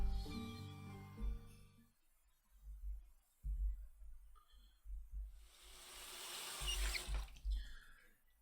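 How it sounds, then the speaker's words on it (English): Water runs from a sink faucet while dishes are washed in a visual novel game scene, faint intermittent gurgling and splashing with a stronger gush near the end and a soft musical tone at the start. "I turned off the faucet in the sink and dried my hands with a towel."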